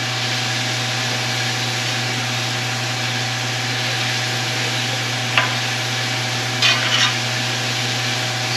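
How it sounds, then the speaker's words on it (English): Thinly sliced potatoes fry on a Blackstone griddle with a steady, loud sizzle that fills the whole stretch, broken by a few brief scrape and clatter sounds near the end, and no one speaks. "they're really just fried potatoes. They're just sliced thin."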